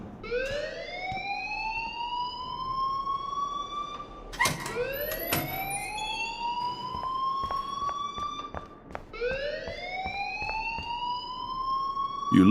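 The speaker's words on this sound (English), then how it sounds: "please turn off that alarm since that's your job." An alarm in the video game Life is Strange wails in repeated rising sweeps, each swell climbing and holding before restarting, loud and continuous over several cycles with a few sharp clanks mixed in and no voices.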